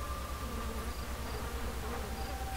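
A steady, faint swarm of bees buzzes in the Ghost Master video game, a continuous insect drone lasting a few seconds with no talk over it.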